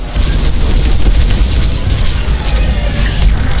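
Enemy ship blowing up in the space combat game Star Wars Squadrons, a loud, close booming explosion with deep rumble that fills the whole moment, followed by lingering crackle and debris noise.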